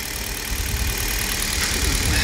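A Hyundai Solaris engine running on Toyota oil, checked for knocking, gives a steady, close idle drone with a broad hiss over a low rumble, continuous and unchanging with no talk.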